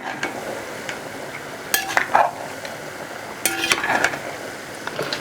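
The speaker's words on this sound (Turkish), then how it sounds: "Ve şu an kavurmamızı ilk kez karıştıracağız." Beef kavurma frying in a pan, a soft steady sizzle under two brief bursts of a utensil scraping and clinking against the pan as the meat is stirred, close and without talk.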